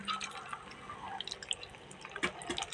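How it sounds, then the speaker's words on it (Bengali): Water poured into a cooking pot during home cooking of a spiced curry with salt, sugar and turmeric, a soft close splashing and dripping trickle with small irregular spatters, no talking. "এই যে জল দিয়ে দিলাম"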